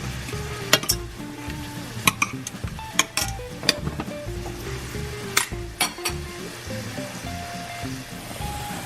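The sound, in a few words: shrimp frying in a pan, being flipped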